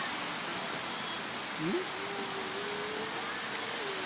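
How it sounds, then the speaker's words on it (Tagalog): Heavy rain pours down steadily outside a flooding house, a constant soft hiss of falling water, with a brief voice rising over it partway through. "Lakas ng ulan ay."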